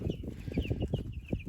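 A flock of two-week-old Freedom Ranger meat chickens clucks and peeps continuously, close by, with overlapping chirps and soft clucks outdoors.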